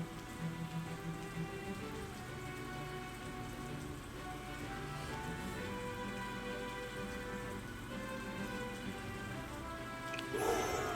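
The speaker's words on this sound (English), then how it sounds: "Dodge chance of troops, both friendly and enemy units will decrease in the rain." Steady rain falling in the tactical strategy game Banner of the Maid, a constant wash of rainfall under layered game music, with a brief brighter burst near the end.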